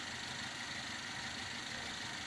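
Fuel-injected car engine idling while warming up after a start, a steady, even hum with no change in pitch, heard alone at low level.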